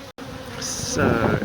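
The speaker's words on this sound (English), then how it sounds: "most of the bees that are floating around here will fly back to the main part of the hive" Bees swarming around an open tree beehive during a removal, a dense close buzzing hum that swells louder toward the end, with a brief spoken word at the start.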